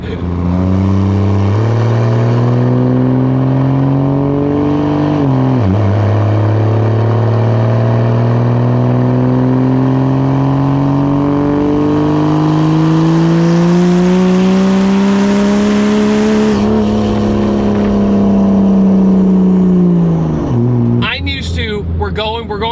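A large, heavy vehicle builds speed, its loud, close engine drone climbing steadily in pitch over about twenty seconds, dipping briefly once, then surging higher before cutting off with a jolt.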